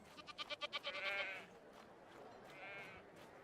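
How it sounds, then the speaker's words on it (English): Sheep bleat in the video game I Am Jesus Christ: a rapid pulsing burst of bleats, then a second shorter bleat, fairly close over a low ambient hum. "Be free, sheep. Those animals are meant for the Passover sacrifice."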